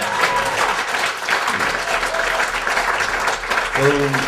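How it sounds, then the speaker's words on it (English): Studio audience applause on a late-night style talk show, steady and fairly loud across the clip, with voices talking over it and a voice rising near the end. "That deserves a big old applause."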